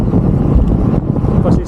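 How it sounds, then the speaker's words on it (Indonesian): Strong headwind buffets the microphone while cycling on a long road ride toward Tegal, a loud continuous low roar with gusty rumble and no voices. "Anginnya kencang."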